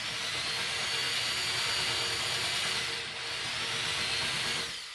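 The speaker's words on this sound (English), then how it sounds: "I'm taking a 5/16 drill and just" A power drill with a 5/16-inch bit whirs continuously into wood, countersinking holes, close and loud, its pitch dipping briefly near the end.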